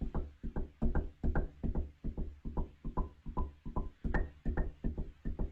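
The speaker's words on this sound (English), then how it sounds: "this is kind of that woodier sound of her knuckles hitting the door" Knuckles rap on a wooden door in a fast, steady run of close, woody knocks, each a short dull thud with slight ring, continuing throughout with no voices.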